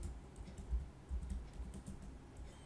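Rapid, uneven clatter of keys as Python code is typed on a computer keyboard, close and fairly quiet, with no voices.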